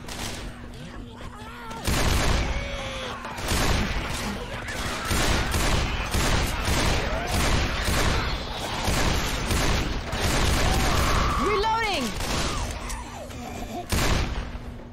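Rapid gunfire from Ellis in Left 4 Dead 2, loud repeated bursts of shots rattling over about fifteen seconds with game effects in between.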